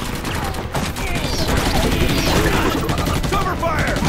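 Sustained gunfire rattles through a firefight in the Xbox 360 shooter Battle: LA, with dense overlapping bursts throughout and shouted voices cutting in over the shooting.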